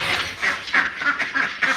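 A group of ducks quacking nearby, a rapid series of loud nasal calls in quick succession, about seven quacks in under two seconds with no talking.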